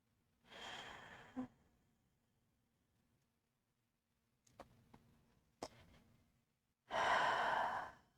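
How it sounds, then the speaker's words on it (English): Deep, slow breathing during a yoga practice: a long inhale, a few soft sniffs and short breaths in the middle, then a loud full exhale at the end, close and quiet otherwise. "2 deep breaths"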